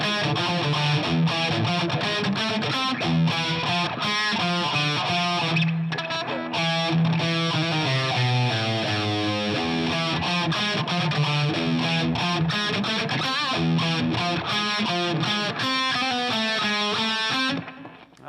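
A heavily distorted electric guitar plays a fast neo-classical harmonic minor run, dense and continuous for about eighteen seconds, loud and alone before stopping abruptly at the end.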